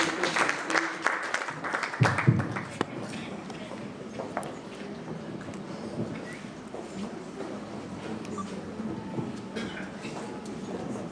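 Applause from an audience at an elders' conference and meetup, a steady spread of clapping filling the room, fairly quiet and sustained throughout.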